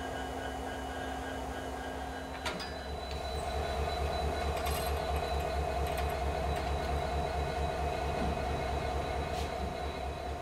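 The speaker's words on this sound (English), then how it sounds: "The two train engines will return to the head of their manifest." Two train engines idle and move on a railroad near a manifest train, a steady low diesel drone with mechanical clanks and a brief metallic squeal, moderately distant.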